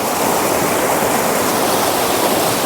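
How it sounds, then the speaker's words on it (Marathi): Swift, rain-swollen forest river water thunders past in a dense, unbroken rush, heard up close and loud throughout. "तिकडे फुल स्पीडने पाणी आहे"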